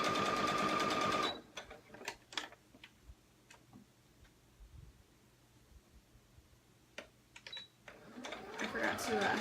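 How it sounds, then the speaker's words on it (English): A sewing machine stitching along the bottom edge of a cloth baby book runs in a close burst at the start and again at the end, with ticking mechanism sounds and a person talking in the quieter middle. "I'm going to sew along the bottom just since I'm here."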